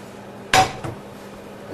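Metal frying pan clattering as a Spanish tortilla is flipped, one sharp clang followed by a softer knock, then quiet.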